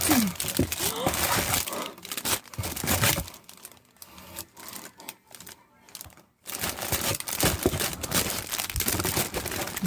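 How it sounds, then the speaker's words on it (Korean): Crinkling and rustling as a large zipper pouch is handled up close, with loud crackly bursts at the start and end and a quieter stretch in the middle. "큰 지퍼 파우치"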